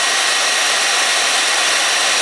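A hair dryer runs loudly and steadily up close, a constant high-pitched whooshing hum without any pause.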